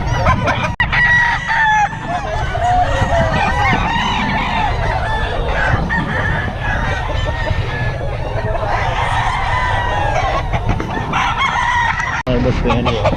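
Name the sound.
chickens at a market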